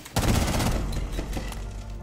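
Rapid gunfire in Rainbow Six Siege, a loud close automatic burst that trails off into scattered shots with echo over about two seconds.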